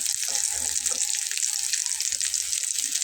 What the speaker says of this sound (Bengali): দেখুন কত চমৎকার করে ভাজা হয়ে যাচ্ছে।